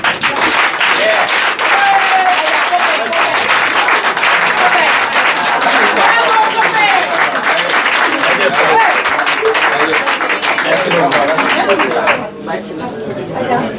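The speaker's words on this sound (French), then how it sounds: "Veuillez applaudir Samba Djoun." Sustained, loud applause fills a hall at a tribute ceremony as a staff member is introduced, with crowd chatter mixed under the clapping until it thins out near the end.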